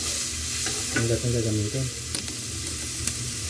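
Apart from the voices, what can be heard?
stirring sautéing onion in a pan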